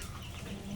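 Country chickens, kept with ducks, clucking as they eat rice on a rainy day: short, close, soft clucks in a brief burst with no talking.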